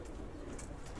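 Soft cooing of silver pigeons kept in cages, a low murmuring coo under steady faint background noise, close and continuous for a brief moment.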